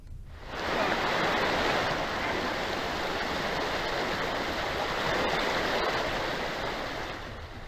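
A flooding forest stream in Alluri district during heavy rains, a dense, loud, continuous rush of water that swells in after a quiet first moment and roars steadily with no voices.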